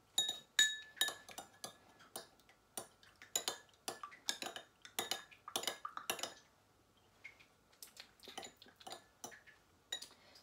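A spoon clinks against a glass jar or dish while scooping strawberry preserve for vegan, gluten-free keto candies, a long run of sharp, bright taps and scrapes in irregular bursts, close and clear, then a brief lull before more clinking.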